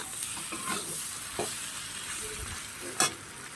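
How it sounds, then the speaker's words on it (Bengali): Flat bean chachchari stirred and fried in a pan, soft sizzling under repeated scraping stirs, with a sharper utensil clack near the end and no talking. "আমি এটাকে ভালো করে নাড়াচাড়া দিয়ে একটু পাতিয়ে পাতিয়ে দিয়ে ভাজতে হবে।"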